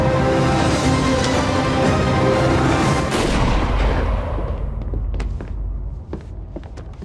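Gunfire and heavy booms from a zombie horror action movie, a dense loud barrage of blasts and thuds that thins into a few scattered sharp shots toward the end.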